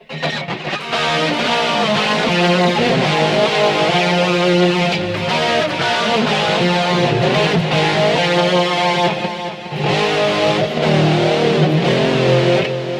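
A distorted electric guitar riff plays loud and steady through a BOSS eBand, its notes smeared by a delay effect that thickens the sound, with a brief dip near the end.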